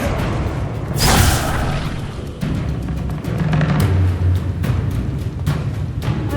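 A Confringo fire spell bursts in Hogwarts Legacy, landing as a loud booming blast with a whooshing rush, followed by further impacts and thuds amid a busy battle soundscape.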